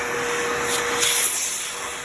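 A vacuum cleaner with a flexible hose sucks water out of a window track, giving a steady, close whine with a thin high tone and brief gurgling surges.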